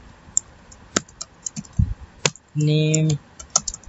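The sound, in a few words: typing on a computer keyboard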